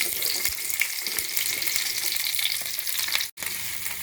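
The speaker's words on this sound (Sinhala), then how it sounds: "තෙල් ටික රත් වෙනකොට කපාගත්තු බණ්ඩක්ක ටික එකතු කරන්න." Cut okra frying in hot coconut oil gives a loud, steady, close sizzle that crackles continuously, with only a brief dropout near the end and no talking.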